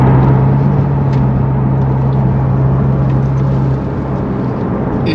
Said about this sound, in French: j'effectue donc l'essai routier final de la 991 Turbo S